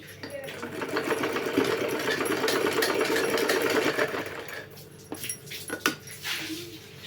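A sewing machine runs a double line of stitching on old clothes being made into shoes, a steady close whir for several seconds that stops, then a few clunks and a dog's whimper while someone talks.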